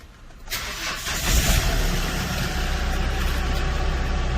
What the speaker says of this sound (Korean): 이제 시동을 걸어 보도록 하겠습니다